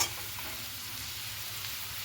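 Spices are stirred into hot frying oil in a pan while cooking a chickpea curry, giving a steady, close hiss of sizzling that runs without a break.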